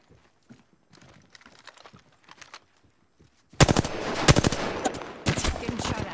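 Rapid bursts of automatic gunfire from the Apex Legends video game erupt loudly midway, after a stretch of faint clicking and movement sounds.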